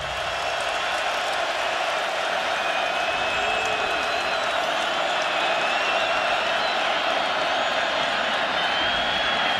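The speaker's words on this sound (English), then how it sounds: "Crowd tries to make some noise on 3rd and 3." At a 2009 West Virginia vs Colorado college football game, a stadium crowd roars on third down. The dense, sustained wash of cheering stays loud and unbroken under a commentator's voice.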